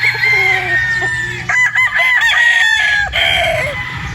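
A straight comb rooster on a farm crows loudly and close, a clear rising call broken into several pulses, with a few short clucks around it.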